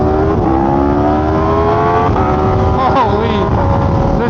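An Aprilia superbike, freshly tuned, revs hard, its engine pitch climbing steadily and then wavering through a couple of quick blips, loud and close.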